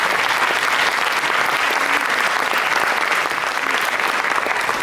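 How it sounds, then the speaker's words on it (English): Steady, sustained applause from a crowd fills the whole stretch, dense and even clapping without a break. "So big round of applause to our current committee."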